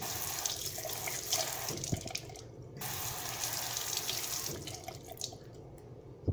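Water pours steadily from a tap onto an iPhone 7, splashing continuously with a couple of brief dips in flow.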